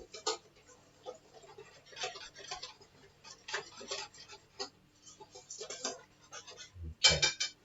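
A batter for cauliflower buffalo wings being mixed in a bowl, heard as quiet, irregular bursts of tapping and scraping with a louder clink near the end.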